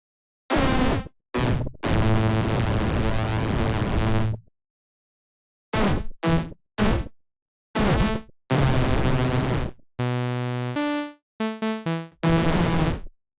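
Bursts of harsh, buzzy sawtooth synth tones through a Kilohearts Disperser phaser in Bitwig, sweeping and swirling, played in choppy stop-start phrases separated by short silences.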